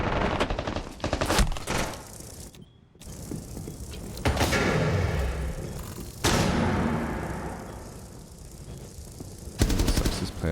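Shotgun blasts and gunfire in the video game Rainbow Six Siege, loud repeated bursts mixed with mechanical clicks and thuds, broken by a brief silence and sharp renewed shots.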